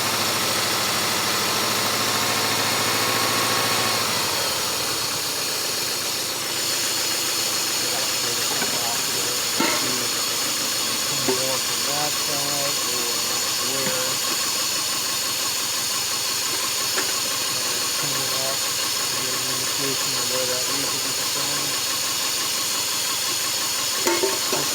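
A 4-cylinder motor running on only 2 cylinders idles with a steady, rough low drone and hiss, with faint irregular knocks over the top. A person talks briefly near the start.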